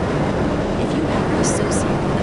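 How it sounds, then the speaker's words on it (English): An automated tram rolls along its track in the video game Half-Life, giving a steady, dense mechanical rumble with a faint hiss throughout and no distinct clacks. "Automatic train drives itself."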